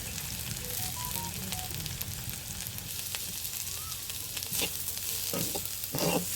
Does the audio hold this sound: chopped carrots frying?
yes